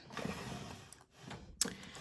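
A makeup storage drawer slides open with faint mechanical scraping and a sharp click near the end, quiet and close with no talk.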